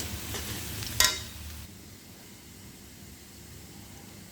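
A pan of fried onions sizzles loudly as spices are added for a taro and pumpkin curry with tengra fish, with a sharp burst partway through, then it settles to a soft, steady hiss.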